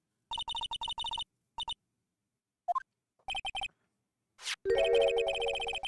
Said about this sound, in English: You pressed redial on that there phone, didn't you?